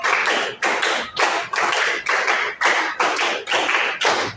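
A class claps in counted patterns, quick groups of sharp hand claps repeating in a steady rhythm, loud and close with no talk between them.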